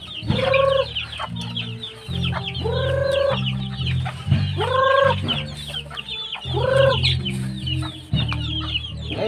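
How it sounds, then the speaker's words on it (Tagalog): Backyard chickens cluck loudly and repeatedly around the person feeding them on a rural farm, with a steady low rumble of busy bird calls and occasional louder squawks close by. "pinapakain ko ng mga alaga kong manok"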